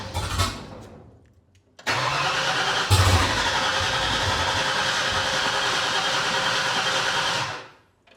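A car engine cranks briefly and fades, then fires up after fuel pump wiring work and runs at a loud, steady idle for several seconds before cutting off abruptly.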